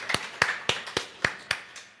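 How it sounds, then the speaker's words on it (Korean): A church congregation claps during Sunday worship to welcome a guest. Six or seven evenly spaced, sharp claps come from a single nearby source, fairly faint, with no talking. "자리에 잠깐 일어나시고 우리 박수로 환영할까요?"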